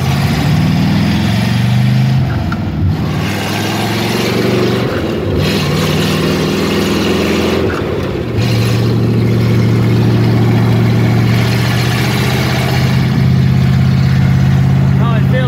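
A 1967 Corvette's engine drones steadily while driving, a loud continuous rumble with shifting pitch as it revs and settles, with a brief gear change around the middle.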